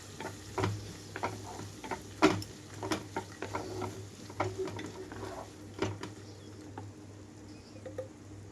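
Cooked cluster beans and moong dal fry in a pan, giving a steady low sizzle with scattered clicks and taps of stirring up close. No one speaks.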